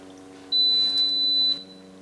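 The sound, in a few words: induction hob beep when switching off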